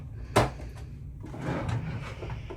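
A wooden drawer slides and bumps shut with a sharp knock, followed by softer rubbing and shuffling, close by and fairly quiet, inside a cruise ship cabin.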